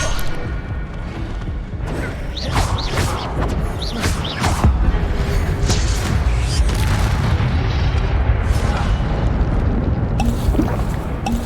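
Incendio fire spell cast in Hogwarts Legacy amid a busy fight, with whooshing flame bursts and repeated booming impacts crackling loudly and continuously through the scene.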